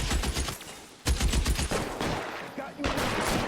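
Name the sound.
gunfire in a shootout in video game LA Noire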